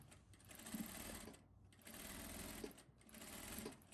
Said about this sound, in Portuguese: Eu vou pegar o meu viés, vou dobrar em 2. Vou trazer ele aqui. E vou costurar ele